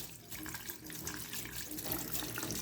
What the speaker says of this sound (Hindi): अब इसमें रनिंग वाटर डालेंगे